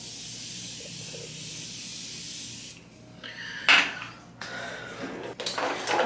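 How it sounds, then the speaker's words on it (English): Steady hiss of Morphe setting spray misted onto a face, a long continuous spray followed by several shorter bursts and clattering handling sounds, close to the microphone with no talking. "I'm gonna spray my face one more time with this Morphe setting spray."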